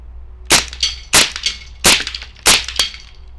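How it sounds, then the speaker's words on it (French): Four sharp, close rifle shots from a Marlin semi-automatic .22 LR, fired in a quick, even series with each crack trailed by a brief echo, and no talk. "Allez, on se fait des tirs rapides."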